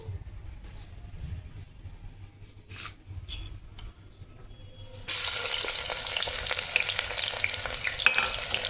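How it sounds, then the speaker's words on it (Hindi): Onion dropped into hot oil for lauki gosht, with a quieter lead-in of faint kitchen clatter before a loud, steady, broadband sizzle bursts in halfway through and holds to the end. "ऑयल हमारा हो चुका है गर्म। अब हम इसमें डालेंगे प्याज।"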